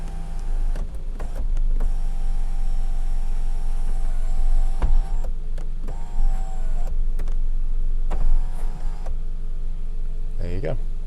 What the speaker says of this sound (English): On this XTR model, we've got electric sunroof fitted to the vehicle as well